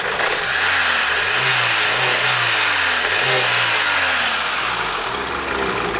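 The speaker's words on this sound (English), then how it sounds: "We got the motor all cammed up and sounding good. Here, we'll give her a little fuel here." A cammed 1993 Honda Civic engine revs up and down in several throttle blips over a loud, rough idle, with the pitch rising and falling close by.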